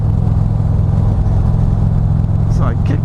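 A Harley-Davidson Street Glide with a freer exhaust runs with a steady, loud low rumble, the motorcycle engine droning evenly while the throttle is feathered, with a brief higher rasp near the end.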